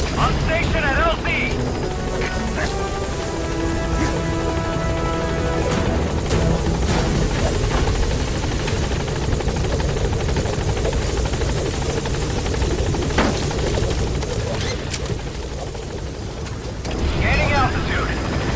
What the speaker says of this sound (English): Arriving shortly at LZ. This is Pequod.